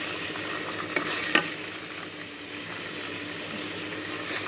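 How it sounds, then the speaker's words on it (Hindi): Whole spices sizzle in hot oil: black peppercorns, a cinnamon stick and black cardamom frying in a pan with steady crackle, a couple of sharp stirring knocks near the start. "उसी तेल में मैंने 8-10 काली मिर्चें, 1 स्टिक दालचीनी की, 1 बड़ी इलायची, ये मैंने डाल के थोड़ा सा फ्राई करती हूँ"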